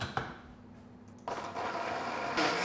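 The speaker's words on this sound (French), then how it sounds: "on va maintenant passer l'émulsion au blender" A kitchen blender switches on and runs, blending a beetroot emulsion with a loud, steady whirring hum that rises in pitch after a quiet moment.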